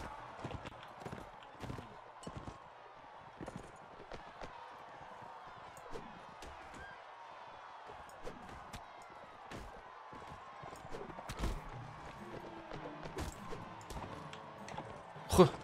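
Horse hooves galloping in a Mount and Blade Warband tournament, a steady run of clip-clop beats with scattered impacts and game noise, with someone talking over the action.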